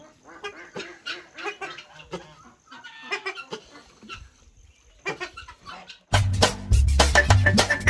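A male Egyptian goose calls at a poultry and bird-breeding farm, sounding as a run of harsh honking notes in short bursts with other fowl noises, ending in a loud, dense burst of calling and clucking.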